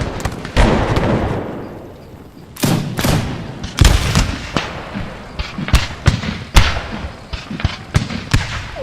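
Cannon volleys in Empire Total War during a siege: repeated loud booming blasts, some overlapping, with rumbling echoes between shots and occasional crackling impacts.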